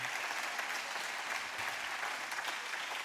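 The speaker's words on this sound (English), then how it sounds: "could you just give a round of applause to Shelly Hinton?" An audience at a campus ribbon-cutting ceremony applauds a food bank worker, a dense, even burst of clapping from many hands that stays steady and moderately distant throughout.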